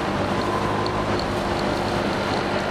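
A hired moped on the move, its small engine droning steadily beneath a broad wash of wind and road rush, continuous and close without any clear change in pace.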